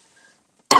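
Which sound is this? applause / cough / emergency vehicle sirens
cough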